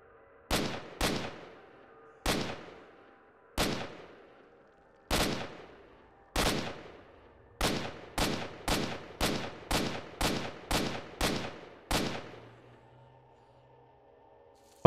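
Gunfire from the video game S.T.A.L.K.E.R.: Shadow of Chornobyl: sharp single shots spaced a second or so apart, then a quicker run of about nine evenly timed reports, crisp and close with short decaying tails.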